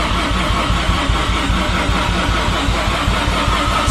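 A Mazda RX7 FD with a big single turbo cranks over on a weak battery, a loud, steady, rapid chugging of the starter turning the engine without catching, close up and continuous.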